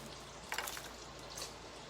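Bacon fries in a pan, a quiet, steady sizzle and crackle with a couple of slightly louder spits, heard close and alone.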